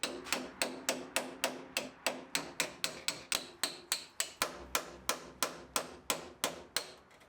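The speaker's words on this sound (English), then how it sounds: "when you're hammering on it, it's kind of like trying to hit a moving target" Steady, rhythmic hammering on metal of a Mustang GT parts car, about three sharp ringing blows per second, close and clear with no talking.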